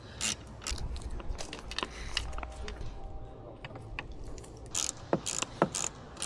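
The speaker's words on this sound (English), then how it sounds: "It's the only socket wrench I can find that fit these." Socket wrench ratcheting on a car's fittings during a windshield protection film install, quick repeated clicks in short bursts close by, fairly quiet with light room noise.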